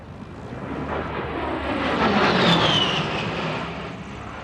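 A propeller aircraft flies a slow roll at the SUN 'n FUN Aerospace Expo airshow, its broad, steady engine drone rising slightly toward the middle and holding from moderately far away with no talk over it.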